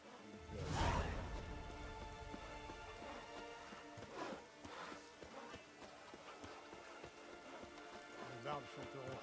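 Steady rain falls in The Witcher 3 on the islands of Skellige, a soft continuous hiss with a louder whoosh near the start, while someone talks over it.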